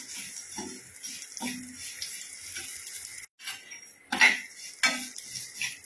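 Fried vermicelli with raisins and dry fruits being mixed in a pan for shevai kheer, soft scraping with a few spoon-on-metal clinks and brief louder stirs after a short pause.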